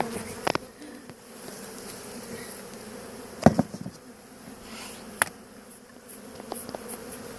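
Honeybees buzz steadily around a hive being dismantled on a bee farm, a constant insect drone with occasional knocks and clicks of hive boxes and frames being handled.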